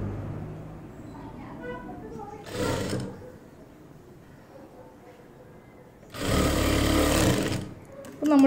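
A sewing machine stitches a sleeve onto a chudidar top along the armhole, running in two loud, sustained bursts separated by a stretch of quieter room sound and a person talking.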